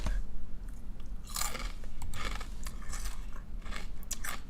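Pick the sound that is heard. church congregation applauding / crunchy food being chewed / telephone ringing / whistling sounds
crunchy food being chewed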